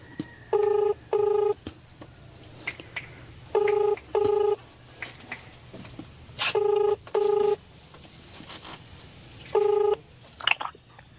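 Telephone keypad DTMF tones, seven distinct beeps in pairs and singles, dialed to call a relative from an animal shelter, with faint background noise and a few clicks between tones.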